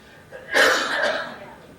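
A single harsh cough bursts out close by, then trails into a softer breathy rasp before fading.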